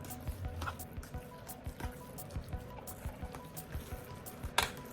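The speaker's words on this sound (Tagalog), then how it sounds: "Haluin na maigi hanggang magkakulay yung karne ng sauce." Ground meat for lumpia shanghai is mixed with sauce, making wet, squishy, repeated slaps and squelches close by, fairly quiet and steady.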